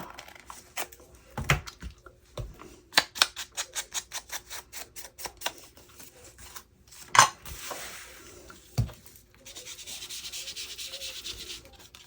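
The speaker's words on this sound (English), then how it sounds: "Oh, I think I want to trim that. Where is my scissors?" Scissors trim paper scraps for a Christmas junk journal in a run of quick, crisp snips with sharper cuts in between, followed by a softer rustling of paper near the end.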